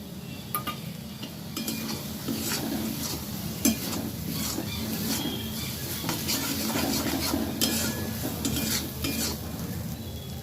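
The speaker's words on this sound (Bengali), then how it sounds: "আমি এবারে টমেটো বাটাটা দিয়ে দিচ্ছি।" Ground tomato paste frying in a pan while being stirred, with a steady sizzle and repeated scraping and clinks of a utensil against the pan, close and loud, with no talk.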